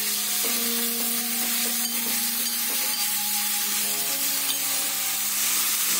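Salt, fenugreek powder, hing and turmeric powder stirred into hot oil in a pan for apple pickle, a steady close sizzle with a constant hiss and light stirring scrapes, no talk.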